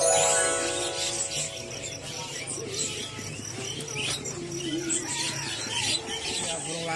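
Silver zebra dove (perkutut) cooing at a busy bird market, soft repeated coos among chirps from other caged birds, with people talking in the background.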